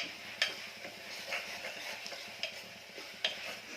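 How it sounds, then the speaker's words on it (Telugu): Keema with methi fries in a pan, a soft sizzle under scattered clinks and ticks of a spoon stirring against the metal, close and fairly quiet. "మంచి పచ్చి వాసన పోయాక ఫ్రై చేసుకోవాలి."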